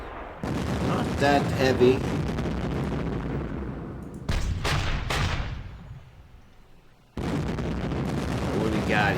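Artillery and gunfire in the wargame Panzer Campaigns Kiev 43, loud booming blasts and crackling bursts separated by fading rumbles, with someone talking over part of it.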